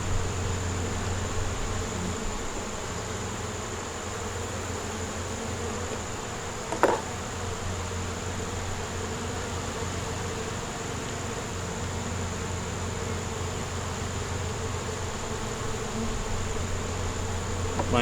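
Honeybees buzz steadily around an open beehive, a continuous mid-level drone with a soft background hum, broken once by a brief sharp knock partway through.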